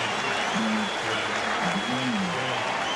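A stadium crowd at a Dodgers home game against the Expos stands and applauds a strikeout by pitcher Dennis Martinez, a steady, dense wash of clapping and cheering that runs the whole length, with a broadcaster's voice speaking over it.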